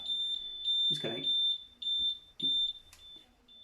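A high-pitched electronic buzzer in a simple series and parallel circuit kit pulses on and off in an uneven rhythm, close and clear, with a voice speaking briefly underneath.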